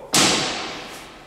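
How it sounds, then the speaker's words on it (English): A small metal inspection hatch on a prison cell door, its single sharp bang ringing out close and loud before fading into a long echoing decay. "when they come and open and shut this little inspection hatch when they're looking at you through the door"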